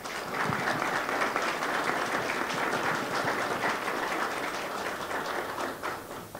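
Audience applause at a school event at CBT 03 in Lerma, Mexico, a sustained, dense clapping from a crowd that holds steady for several seconds, then begins to thin at the end.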